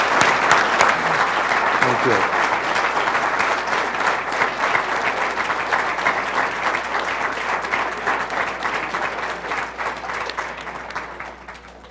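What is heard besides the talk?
audience applause for an honoree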